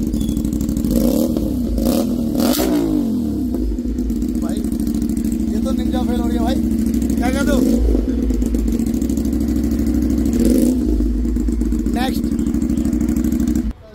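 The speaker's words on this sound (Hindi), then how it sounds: "पहले ये ऑस्ट्रियन रेसिंग, इसकी सुनते हैं साउंड कैसे आने वाली है।" An Aprilia RS 457 motorcycle fitted with an Austin Racing exhaust idles loudly up close, blipped through several quick throttle revs that rise and fall over a steady rumble.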